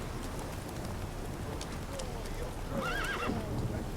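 Roach, the horse in The Witcher 3, gives a short, near whinny over a low steady rumble of game ambience, with faint hoof clops running under it.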